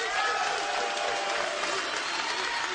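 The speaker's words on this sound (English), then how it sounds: "fellas, clap your hand." Men in a comedy club audience clap and cheer at a stand-up show, a dense, loud wash of applause and crowd noise holding steady throughout.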